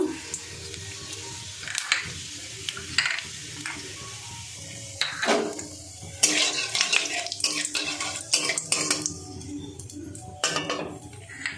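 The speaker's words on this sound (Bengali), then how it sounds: "এবার আমি একটু গোটা জিরে ফোড়নে দেব" Whole cumin seeds tempering in hot oil, with sparse clinks and utensil knocks against the pan before a burst of crackling sizzle and stirring takes over.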